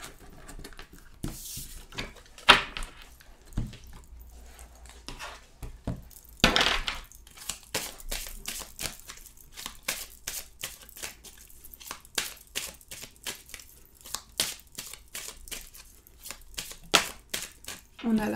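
Tarot cards shuffled and laid out at a table, giving soft repeated riffling, flicking and tapping in uneven bursts, close and fairly quiet, with no talk.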